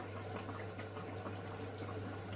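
Malpua batter dropped into hot oil, giving a steady, even bubbling sizzle, close but fairly quiet, with no talking.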